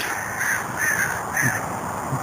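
A large flock of crows caws repeatedly in rough bursts, a noisy chorus at moderate distance with steady background hiss, at a lake park.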